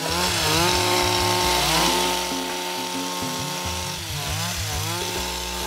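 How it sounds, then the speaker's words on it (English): A handheld coffee harvesting machine shaped like a weed whacker runs on a Brazilian coffee farm, its small engine loud and buzzing, the pitch rising and falling as it revs up and settles. "they're using handheld machines. They look like weed whackers."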